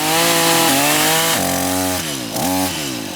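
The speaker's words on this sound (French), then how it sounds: "la tronçonneuse attaque la branche avec l'extrémité du guide parce que ça fait un rebond" A loud chainsaw engine revs and bogs as the guide bar tip bites into a branch and kicks back, its pitch dropping and rising sharply several times, close by with no talking.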